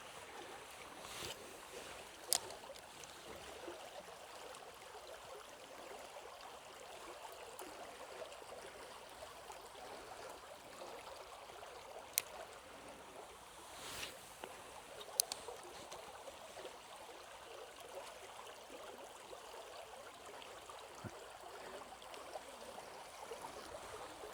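A small stream flows continuously with a steady close rush and trickle of water, broken by a few faint clicks, and no voices.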